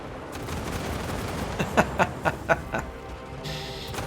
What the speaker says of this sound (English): There's no bombing run, but we'll get him with the main guns.